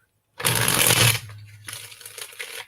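Reading cards are shuffled by hand in a loud, close burst of papery riffling, followed by softer, scattered shuffling.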